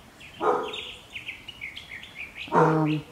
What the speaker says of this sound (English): Wow, look at the birds are coming and sitting.